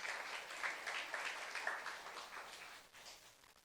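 A church congregation applauds in a steady wash of clapping, fairly faint and distant, tapering off toward the end.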